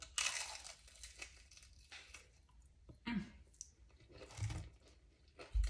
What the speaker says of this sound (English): y'all heard that crunch?